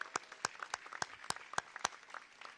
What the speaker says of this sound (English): let's give DOT a big round of applause for the great job that they do.